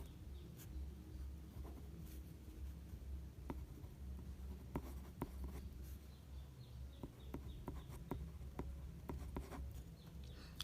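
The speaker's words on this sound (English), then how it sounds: "Let me write the question down." A pen scratches on paper as a maths question is written out, a soft continuous scribbling with small taps, close but faint over a low steady room hum, with no talking.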